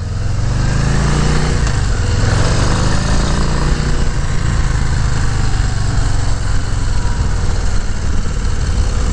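A Harley-Davidson Low Rider ST and Fat Bob rumble loudly and continuously while riding, with a heavy, steady engine note and wind noise and no pause.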